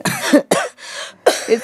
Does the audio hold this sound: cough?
yes